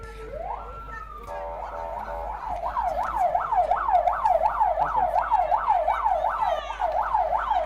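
An ambulance siren at a Kenya Red Cross training emergency drill sweeps up, then settles into a loud, steady wail that rises and falls rapidly, over distant background murmur.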